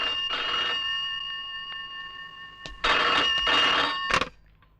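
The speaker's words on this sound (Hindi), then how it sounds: "आपके लिए दारोगा जी का फोन है" An old-style telephone bell rings in two bursts separated by a pause, loud and close, with a faint hum in between.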